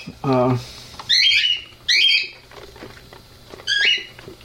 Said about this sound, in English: My birds are driving me crazy.